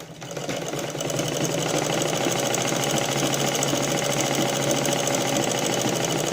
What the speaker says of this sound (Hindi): फिर ऐसे आने के बाद में एकदम किनारे पे सिलाई लगानी है आपको